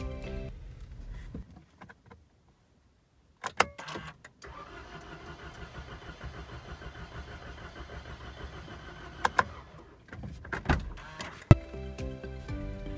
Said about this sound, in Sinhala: නමුත් වාහනේ ස්ටාර්ට් වෙන්නේ නැහැ.